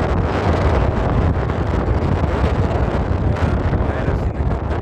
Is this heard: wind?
yes